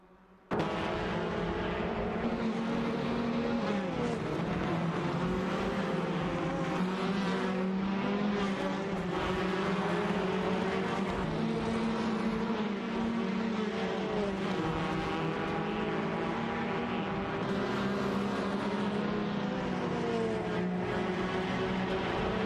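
Race cars battling for position in an AI racing video game, engines droning continuously with shifting pitch as several cars run close together, loud and steady with no voices.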